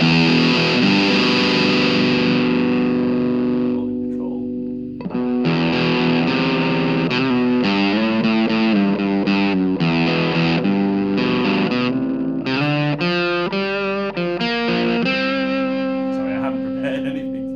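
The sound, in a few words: heavy guitar distortion effect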